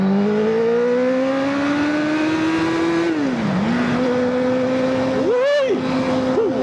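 Honda CBR1000RR Fireblade motorcycle engine revving steadily with a rising, then dipping pitch and a quick blip near the end, loud and close throughout, with someone talking over it.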